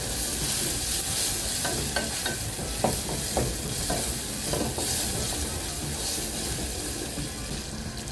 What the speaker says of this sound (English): I'm just going to add my sauce